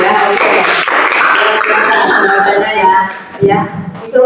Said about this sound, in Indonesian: tepuk tangan buat Mas Kepan ya